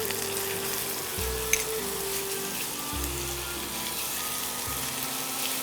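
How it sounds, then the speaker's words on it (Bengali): Ginger and garlic paste fries in a pan, a constant dense sizzle close up with a low hum underneath and one brief clink, no voices. "একটু ভালো করে কাঁচা গন্ধটা যাওয়া অবধি ভাজবো, তাই তো?"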